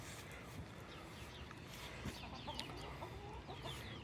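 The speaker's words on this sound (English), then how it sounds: "we got the hens, which are happy hens, laying nicely" Hens in an allotment coop cluck softly and intermittently, with scattered short calls and a few higher squawks over a low, faint outdoor background.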